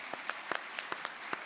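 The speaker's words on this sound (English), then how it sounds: "Let's give them a round of applause" Sparse, faint audience applause at a startup showcase, a handful of distinct individual claps spaced out rather than a full ovation.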